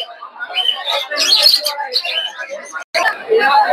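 Small finches such as Gouldian finches chirp and tweet at an outdoor bird market where finches and pigeons are sold, a dense, busy chatter of bird calls mixed with crowd murmur and people talking nearby.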